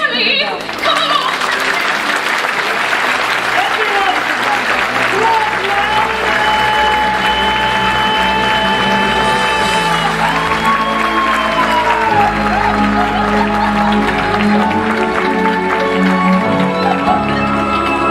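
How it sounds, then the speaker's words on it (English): A theatre audience claps hands in a sustained, loud, dense wash of applause with some cheering, while music and voices run beneath it throughout. "If you believe, clap your hands!"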